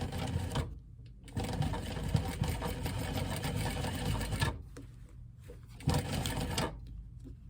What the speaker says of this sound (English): It's all pinned and ready for me to sew. And I'm just going to sew along this diamond shape.